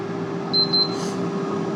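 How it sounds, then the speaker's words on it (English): An air fryer signals that its cooking cycle is done with a quick pair of short, high electronic beeps over a steady background hum. "the air fryer, that means it's done"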